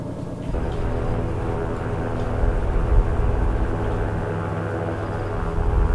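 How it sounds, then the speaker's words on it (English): A TorqueSim SR20 piston aircraft engine runs in X-Plane 11, a steady droning hum with strong low harmonics that holds at an even, loud level throughout with no talk. "beautiful sounds really on the TorqueSim SR20"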